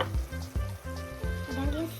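Chopped onions sizzle in hot oil in a pan for lecho, a close, steady crackling fry with a few stirring sounds.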